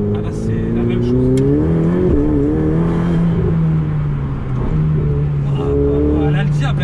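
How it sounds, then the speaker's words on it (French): Ferrari 488 Pista engine revving hard and close as its turbos kick in, pitch rising and falling through strong harmonic sweeps, with voices talking over the loud mechanical roar. "Le bruit quand les turbos s'enclenchent, c'est extrême."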